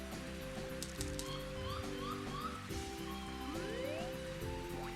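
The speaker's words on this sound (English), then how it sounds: "the rain is a nuisance" Steady rain falls in the Mario Golf video game, a constant hiss across the whole clip with small chimes and sweeping game tones over it.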